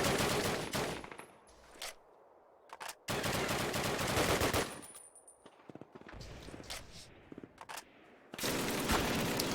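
Rapid machine gun bursts from an MG in Call of Duty, the World War II game, during a bunker fight at Bastogne: several loud, dense volleys separated by short gaps, with other gunfire and battle noise between them.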